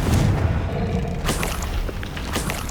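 Spell combat in the Hogwarts Legacy video game brings heavy booming blasts and thuds over dense, loud noise, with sharp bursts and whooshes near the end.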